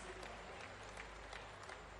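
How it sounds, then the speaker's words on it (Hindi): A crowd applauds steadily at a cow-protection pledge conference in Bhopal, a full hall-wide wash of clapping that stays fairly quiet and even throughout. "जोरदार तालियां।"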